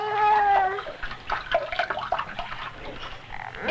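Bath water sloshing and dripping as a baby is lifted out of a tub, close splashes and trickles, with a tonal voice-like sound at the start.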